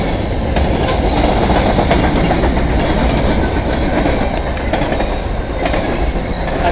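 A freight train with a Canada hopper car rolls past close by near London, Ontario, producing a loud continuous rumble with rhythmic wheel clatter and faint squeals.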